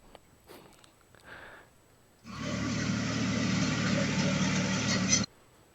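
A tractor parked for a campground hayride idles nearby, a steady low engine rumble that starts abruptly, holds for about three seconds and then cuts off, after a few faint sounds.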